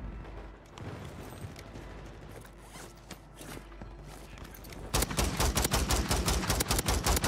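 Gunfire in Call of Duty Warzone with a Ram-7 and Striker loadout: scattered muffled shots and clatter, then a loud, rapid automatic burst of closely spaced shots fills the final seconds.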